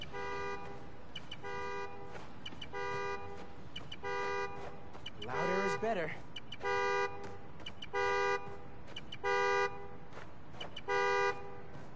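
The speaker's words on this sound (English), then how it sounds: "Find the horn, find the car." A car horn honks in the Spider-Man video game, sounding about eight short, evenly spaced toots in a steady rhythm, with a voice talking partway through.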